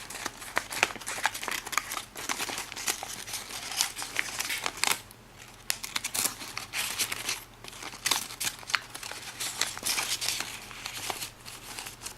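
Origami paper being folded along a diagonal to finish a hexagon box base, producing dense crinkly rustling and sharp creasing crackles that go on steadily throughout, close up, with no voices.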